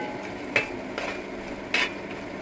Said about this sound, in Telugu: చూడండి మెంతికూర శుభ్రంగా వేగిపోయింది